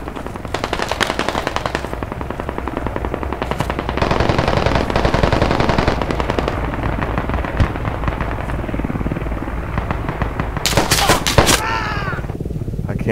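Dense, sustained automatic gunfire fills a squad-based shooter video game, with rapid bursts overlapping continuously at high loudness and a few sharper cracks near the end.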